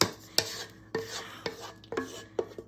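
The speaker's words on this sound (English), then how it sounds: "I'm gonna scrape that out best I can" A utensil scrapes gravy out of a pan over steak with onions, giving about half a dozen sharp scraping strokes at an uneven rhythm, close and fairly clear with no talking.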